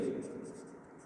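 A pen or chalk scratches across a board during a chemistry lesson on hybridization, a soft steady rasp lasting about a second while a voice speaks over it.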